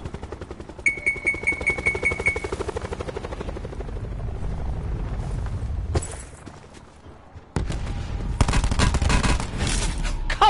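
Gunfire in Call of Duty Blackout battle royale: loud rapid bursts of automatic shots up close, a pause with a quieter lull, then more heavy firing resuming.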